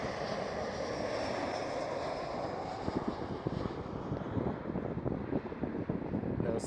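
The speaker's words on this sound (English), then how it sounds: "next one up, 737 KLM." KLM Boeing 737 airliner at Amsterdam Schiphol, a broad jet roar with wind buffeting on the microphone, growing rougher and more turbulent toward the end.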